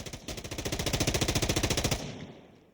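Rapid automatic burst from a rifle in Insurgency Sandstorm, about two dozen evenly spaced loud close shots in under two seconds, then a short echoing tail fading out.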